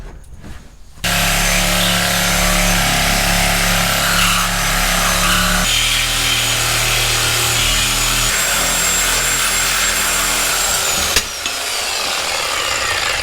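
A power tool cuts through a steel coil spring from a 4th-gen Ram 1500 during an air bag install, a loud continuous grinding whine that shifts pitch as the cut progresses, ending abruptly near the end.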